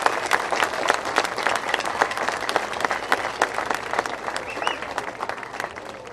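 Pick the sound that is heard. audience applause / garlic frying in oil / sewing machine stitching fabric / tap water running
audience applause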